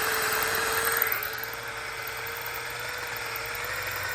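A steady high-pitched power drill bores into the exhaust ports of a 1966 Ford Thunderbird, a sustained whine that shifts slightly in pitch after the first second, close and continuous with no talk.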